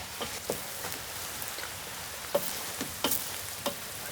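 Golden-browned vegetables and chunks of unsalted Tuscan bread frying in a hot pan, a constant crackling sizzle broken by sharp spatula scrapes and pops as the mixture is stirred, close up with no talking.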